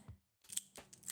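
A slider fidget spinner being worked by hand gives quiet, close clicks: a soft tap, a short gap, then a quick cluster of sharp snaps.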